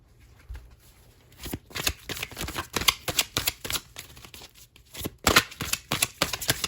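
A deck of tarot cards being shuffled up close, with a quiet start giving way to a run of crisp, rapid riffling and slapping bursts that repeat in quick succession, with no talking.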